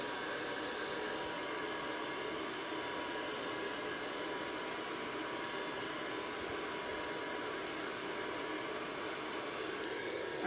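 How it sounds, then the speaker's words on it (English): A hair dryer blows steadily and faintly through the whole stretch, drying a snowman craft project with an even, unbroken whoosh and no voices. "I don't know why I keep wanting to blow it dry."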